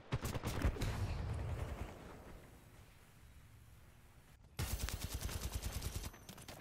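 Laser-like weapon fire in a Titanfall 2 multiplayer match: a fast rattling volley, a quieter lull of faint background noise, then another dense burst of rapid shots.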